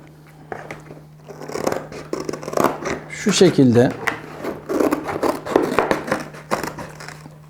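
Scissors snip and rasp through a piece of leather being roughly cut out for a Turkish shadow puppet, with someone talking throughout and a steady low hum underneath.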